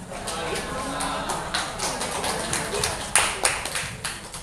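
Scattered applause from attendees at a work meeting, loose uneven claps with a few sharper hits, fairly quiet and heard under a murmur of talk.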